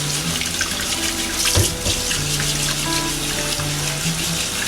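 Running tap water splashes steadily into a sink while potatoes are scrubbed by hand, a loud continuous wash with a brief clunk midway and no talking.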